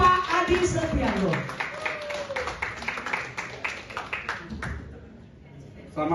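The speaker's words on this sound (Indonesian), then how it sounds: "Kita beri tepuk tangan sekali lagi buat Bapak Adi Setiarto" Scattered clapping from an audience at a Tai Chi Chuan association evening event in a hotel ballroom in Balikpapan, broad and steady at first, then thinning and fading to near silence before a voice returns at the end.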